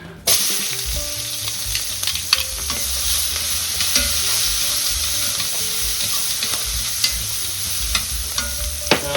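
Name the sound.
onions tossed into hot pan, sizzling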